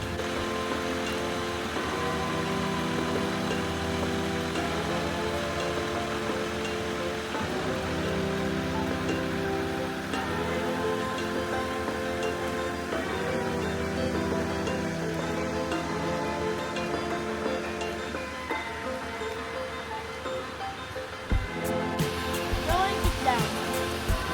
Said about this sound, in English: I don't want to get down because it's raining.